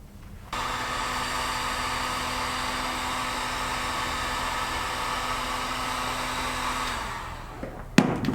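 A heat gun blows a steady, loud, even whoosh close by while heating the bearing races of a Puch Maxi moped, running unbroken for about seven seconds before cutting off with a brief clatter at the end.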